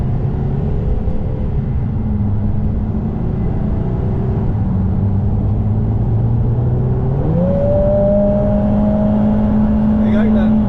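Inside a Lotus Emira with a gearbox fault, the engine revs up and then holds a steady drone near the red line without shifting, loud and close, with a rising whine partway through.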